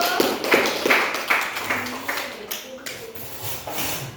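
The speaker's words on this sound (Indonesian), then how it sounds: "Tepuk tangan dulu dong untuk teman yang sudah bantu." Children in a fourth-grade Islamic studies classroom clap for a classmate, a scattered, uneven patter of small-group hand claps nearby that thins out toward the end, with a voice speaking over part of it.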